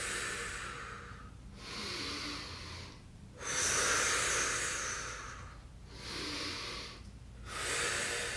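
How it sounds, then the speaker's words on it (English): Slow, steady yoga breathing: about four long, hissing breath cycles separated by short pauses, close and soft, with no talking. "and breathe out"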